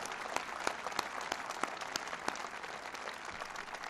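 Event audience applauding Representatives Earl Blumenauer and Suzanne Bonamici at a Trans-Pacific Partnership speech by Obama, sustained distant clapping with a few sharper claps standing out.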